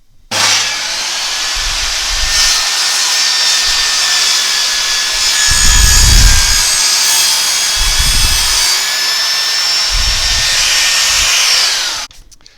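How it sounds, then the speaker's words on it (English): A table saw cuts through wood on a crosscut sled with a loud, sustained whine that holds steady for about eleven seconds, with a few low rumbles as the blade works through the wood, then cuts off abruptly. "all I'm going to do now is just complete this cut"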